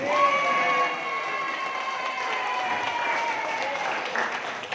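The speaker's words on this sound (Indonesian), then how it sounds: "Aplaus buat yang tidak berdiri." An audience at a network building training session applauds, a dense sustained clapping that fades slightly toward the end, with a voice faintly audible over it.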